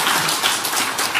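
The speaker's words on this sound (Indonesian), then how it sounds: "Beri tepuk tangan yang meriah buat Tuhan." A church congregation breaks into loud, dense, sustained applause, a continuous wash of many hands clapping together.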